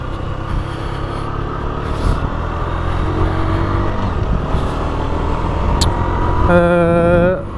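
Husqvarna Svartpilen 125 motorcycle ridden on the road, its engine a steady loud drone throughout with wind noise, and a brief rising rev near the end.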